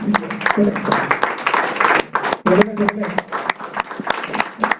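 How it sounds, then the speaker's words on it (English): Audience clapping at an anniversary celebration, a brisk burst of many hands with sharp individual claps near the mic, while voices talk over it in the room. "Let's give her the round of applause."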